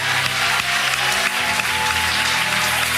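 Church congregation at a French-language evangelical service applauding and cheering in acclaim, a dense, steady wash of clapping and crowd voices sustained throughout.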